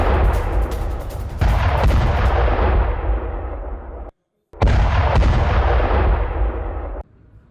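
Artillery fires in the Russia-Ukraine war: two heavy booming shots, each followed by a long rumbling roll that fades, with a brief silence between them.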